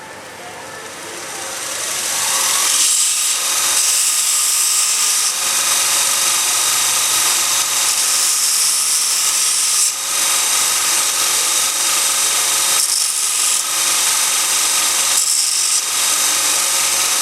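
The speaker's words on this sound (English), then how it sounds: "for half a gram, we'll just give it a light chamfer and that should be enough" A machine cuts a light chamfer on a VG30DETT engine piston during balancing, a continuous loud grinding whir running throughout with brief dips and rubbing scrapes as the cut proceeds.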